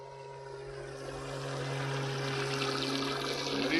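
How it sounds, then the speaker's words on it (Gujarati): A handmade toy steamer boat's small engine hums steadily on a river, a constant tonal drone with a rising watery rush of churning water building toward the end. "જો તમે એન્જિન નો અવાજ જોવા તમે"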